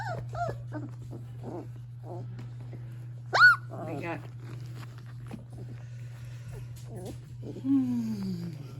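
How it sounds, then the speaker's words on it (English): A puppy whimpers and whines in short, high, thin cries, with a person talking nearby over a steady low hum. "I got a puppy behind me."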